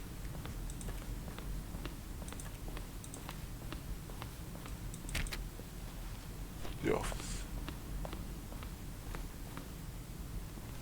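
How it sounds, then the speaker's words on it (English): Assorted button-press sounds from the video game The Stanley Parable, a steady run of short, crisp keyboard-like clicks at an even pace, with a couple of small chirps and one quick rising sweep midway. "A selection of the sounds used throughout the game when buttons are pressed."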